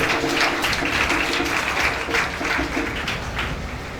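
A church congregation applauds and cheers for their God in a steady, dense wash of clapping that fills the room evenly from start to finish.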